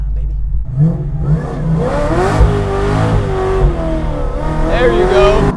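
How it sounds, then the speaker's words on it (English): A 650 hp LT4-powered 1969 Camaro restomod roars through a burnout, its engine revving hard in rising and falling surges up close, with excited voices over the noise. "Burnout time, baby."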